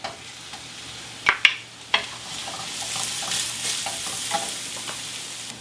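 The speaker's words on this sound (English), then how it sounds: "Just stir the garlic for a minute" Two cloves of chopped garlic hiss and sizzle in a pan while a spoon stirs them, with a few sharp clacks of the utensil against the pan at first and then a steady, close, bright frying crackle.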